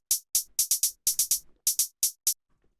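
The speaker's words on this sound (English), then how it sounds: "Next thing we have here is the hi-hat" Hi-hat sample for raw electro production, struck in a quick irregular pattern of about eleven crisp, bright hits with short decays, dry and close, with no other sound.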